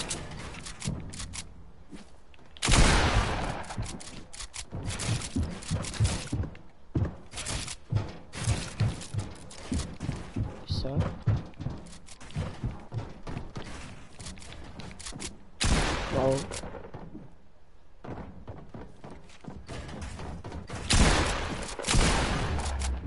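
Bursts of gunfire in a Fortnite match, with irregular volleys of shots and impacts, loud up close and scattered through the stretch with brief pauses between clusters.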